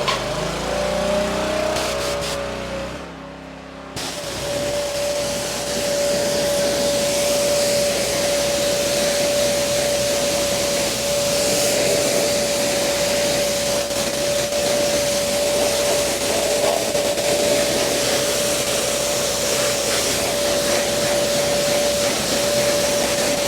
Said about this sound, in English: Sorry about the pressure washer